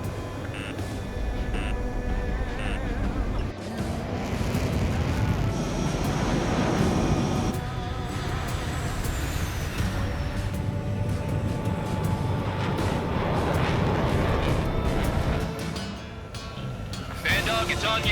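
Fighter jets flying in Ace Combat 7, a loud continuous engine roar with shifting intensity, overlaid by radio chatter and cockpit warning tones.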